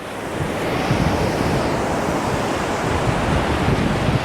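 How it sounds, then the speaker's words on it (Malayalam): Rough sea surf at Purakkad beach in Alappuzha roars loud and steady, a continuous wash of breaking waves mixed with wind noise on the microphone. "ഇപ്പോൾ കടൽ രൂക്ഷമായതുകൊണ്ട് കടലിലേക്ക് ആരും അങ്ങനെ പോകാറില്ല."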